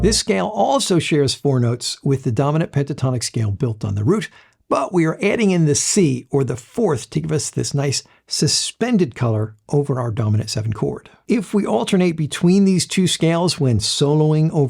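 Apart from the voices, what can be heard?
None of the usual background noises is heard.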